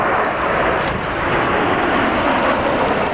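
RAF Typhoon jets at the RAF Cosford Air Show 2018 give a broad, steady roar of engine noise, loud and sustained throughout.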